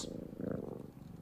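A soft, steady cat purr close by, with a low rhythmic rumbling pulse that continues evenly throughout.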